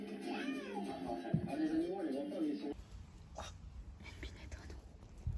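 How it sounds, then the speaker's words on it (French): A kitten meows several times up close, thin rising and falling cries, while a person murmurs softly nearby. "Ouh là là, le petit chaton."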